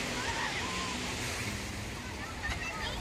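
Ocean surf washes steadily onto the shore at Treasure Island in Laguna Beach, California, a continuous broadband roar with wind buffeting the microphone and a voice speaking briefly.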